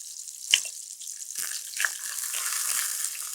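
Water is poured into a pan of sautéing raw mango, giving a faint, close hiss and sizzle with a few sharp splashy bursts early on, then a steady soft frying crackle.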